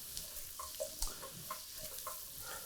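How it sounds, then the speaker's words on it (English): Shallots, garlic and onion stirred in a pan, with a soft steady sizzle and occasional light scrapes of a utensil, fairly quiet and without talk. "give them a little more stir."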